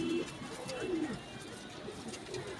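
Black dubaaz pigeons coo nearby in a couple of soft, throaty, descending calls, with faint background murmur in between.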